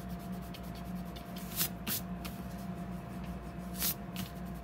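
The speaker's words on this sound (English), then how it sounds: "here is my white eraser. It does not harm the paper." A white eraser rubs on paper in a quiet papercraft setting, making a few brief, soft scrubbing strokes over a low, steady background hum.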